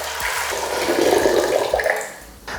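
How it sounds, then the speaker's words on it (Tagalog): Cloudy rice-washing water poured into a cooking pot in a home kitchen, a loud steady splashing gush for about two seconds that ends abruptly, close by with no talking. "Ilalagay ko lang tong hugas bigas sa isang cooking pot."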